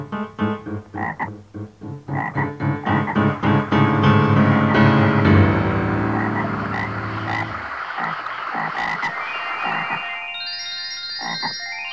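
Voices imitate frogs in a quick rhythmic run of close, loud croaks that swell into a sustained chorus, then give way to higher, thinner chirps.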